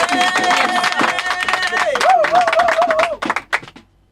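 A church congregation at a Saturday prayer gathering claps and cheers, dense clapping under shouting voices and a loud sustained call, ending abruptly in a few scattered claps.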